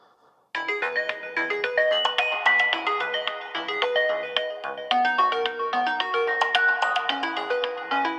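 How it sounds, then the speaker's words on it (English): A bright, melodic ringtone from a TCL 50SE smartphone plays continuously, a repeating sequence of chiming electronic notes after a brief quiet start. "Let's see what ringtone we have in here from TCL."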